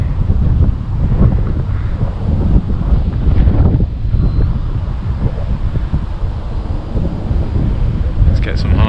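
Strong wind buffets the microphone at an RC glider field where a Volantex Phoenix 2400 glider is being flown, a loud continuous low rumble lasting throughout with speech partly audible beneath it.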